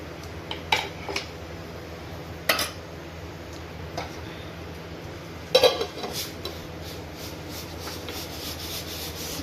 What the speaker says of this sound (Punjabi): ਮੈਂ ਕੜਛੀ ਮਾਰਤੀ ਐ ਇਹਨੂੰ ਹੁਣ ਟੱਕਣਾ ਹੈ ਚੰਗੀ ਤਰ੍ਹਾਂ